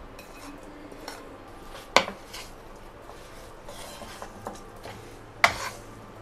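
A spoon scrapes and clinks against a pan while stirring kalonji masala stuffing for karela, soft steady rubbing broken by two sharper metallic knocks.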